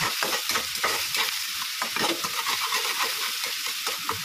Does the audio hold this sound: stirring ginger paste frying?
yes